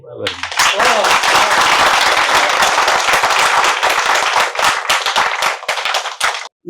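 An audience at a saint-literature festival gathering breaks into loud, sustained clapping to honour two speakers, dense and close, holding steady for several seconds before thinning out and stopping abruptly.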